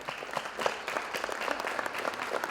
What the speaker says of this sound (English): please stand and let us give you a round of applause to thank you